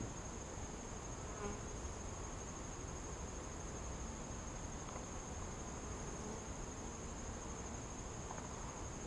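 Honeybees hum around an open hive during an inspection, a continuous, even drone of many wings filling the scene at low level, with faint passing buzzes and no speech.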